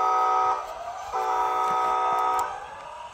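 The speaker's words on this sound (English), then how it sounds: "let's take a listen to what the horn sounds like" A model train horn sounds in two sustained blasts, a short one and then a longer one, steady and fairly loud with no talking.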